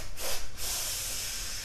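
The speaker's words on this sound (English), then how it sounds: "You're going to take 3 sniffs through the nose, 3 puffs of air as deep as you can" Three quick sharp sniffs through the nose, followed by a steady breathy exhale of air, done as an Alva method breathing exercise, close and alone with no talking.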